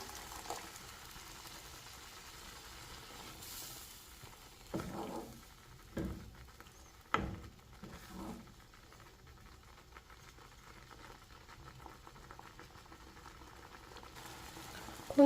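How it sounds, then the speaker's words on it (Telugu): Water is poured into dal simmering in a cooking pot, bringing a few splashy pours and bubbling bursts over a quiet kitchen background, close and moderately soft. "పప్పులోకి లైట్గా వాటర్ అయితే వేస్తున్నాను."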